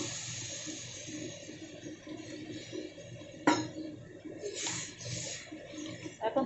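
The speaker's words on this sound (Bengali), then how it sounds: "এখন আমি এখানে জল দিয়ে দেবো।" Water is poured into a simmering cauliflower and fish curry, a soft, splashy pour with gurgling and a faint clink partway through, quiet and close.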